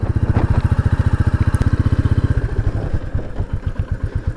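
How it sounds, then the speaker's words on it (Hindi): A 2021 Royal Enfield Meteor 350 motorcycle climbs an off-road hill at low rpm, its single-cylinder engine thumping in a steady, heavy, close-up pulse that slows slightly toward the end. "अब मैं लो आरपीएम पे जाने दे रहा हूँ, इजीली चढ़ रही"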